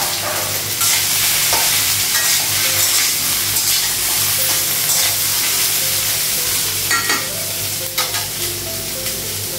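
Green and dry chillies with cumin and black cumin sizzle loudly in a hot frying pan, a continuous close crackle broken now and then by stirring scrapes, with no voices.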